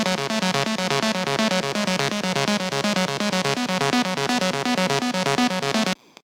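A bright, loud synth lead in the style of a remix plays a fast repeating pulsing pattern for about six seconds, then stops abruptly.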